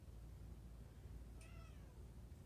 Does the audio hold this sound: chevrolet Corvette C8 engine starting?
no